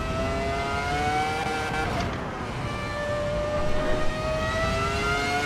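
An F1 car in Assetto Corsa EVO screams around Mount Panorama, its engine holding a loud, high whine that dips and climbs through gear changes and corners, with no talk over it.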